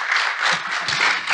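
An audience applauds at the opening of a panel event on artists and cultural workers, a brief, steady patter of many hands clapping at close to moderate distance.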